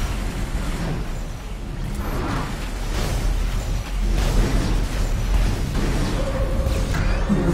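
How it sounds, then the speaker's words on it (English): An enemy guard tower blows up in the Supernova strategy game, a rumbling explosion with bursts and whooshes that builds to a sustained roar over several seconds amid ongoing battle effects. "Enemy top guard tower destroyed."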